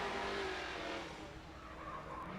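Tony B's supercharged Ford Mustang drift car at a Formula Drift night round in Las Vegas, a continuous loud roar of engine and tire noise that eases slightly midway, heard from trackside.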